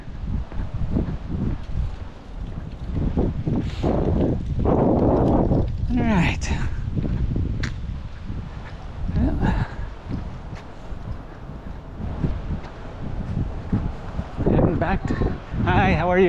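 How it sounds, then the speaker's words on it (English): Wind blows outdoors along a palm-lined lane, gusting and buffeting the microphone throughout, loud and continuous with a few stronger surges. "Kind of windy."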